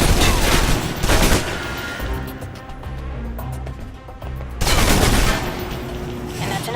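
Submachine gun fire in the video game Alpha Protocol, loud rapid bursts at the start and again near the end, with a quieter rattling stretch in between.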